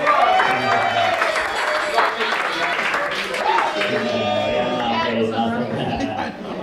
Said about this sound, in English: Dan Wicks, give him a round of applause.